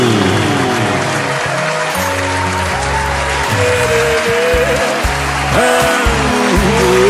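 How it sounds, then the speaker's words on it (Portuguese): Wedding guests stand and applaud the bride and groom in a steady wash of clapping that runs the whole time, blended with loud music carrying a strong bass line and melodic tones. "Fique em pé e bata palmas ao casal!"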